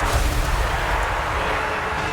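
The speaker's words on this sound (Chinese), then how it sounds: "其实你看到这个炮组人员其实被轰炸" A dense, continuous roar of artillery fire in the video game Total War: Warhammer 3 booms and rumbles without pause, heavy and loud like a distant bombardment.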